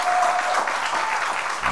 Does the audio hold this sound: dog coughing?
no